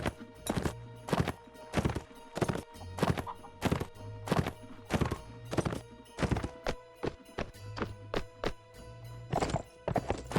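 Horse hooves pound in a steady, rapid gallop rhythm in Mount & Blade Warband, loud and close, with a brief whinny partway through and no talking.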